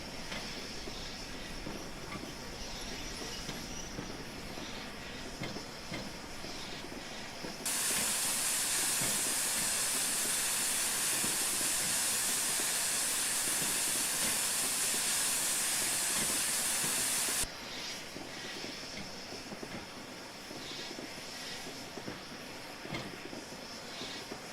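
Flying Scotsman steam locomotive in a train simulator game, with a loud sustained hiss of brakes and steam rising sharply over the running rumble for about ten seconds before dropping back.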